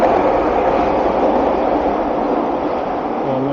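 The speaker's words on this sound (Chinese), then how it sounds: "我们这边的火车呢也快要到了" A train approaches along a street in downtown Vancouver, heard as a loud, continuous rumbling roar that holds steady through the clip with no voices over it.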